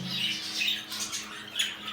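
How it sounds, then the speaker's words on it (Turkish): Pet cockatiels squawk in a row of shrill, harsh calls, several bursts within two seconds, close and fairly loud, with no talking. "Burada Sultan papağanımız var."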